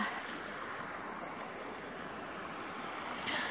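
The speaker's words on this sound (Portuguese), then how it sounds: "Riachinho." A small stream flows steadily near Striding Arches in a broad, even wash of rushing water that holds constant throughout, with no voices over it.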